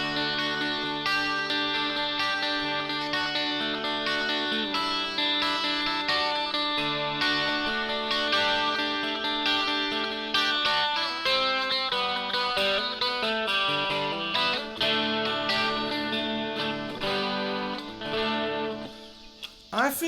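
A Harley Benton 12-string electric guitar rings out chords and melodic lines through a reverb effect, its shimmering, doubled strings sustaining and echoing steadily for about twenty seconds.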